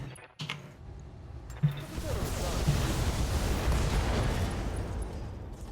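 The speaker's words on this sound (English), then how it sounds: "Get an ammo explosion." An ammo explosion in the video game Battletech sounds as a sudden boom that swells into a sustained, rumbling roar with scattered crackles, moderately loud against game noise.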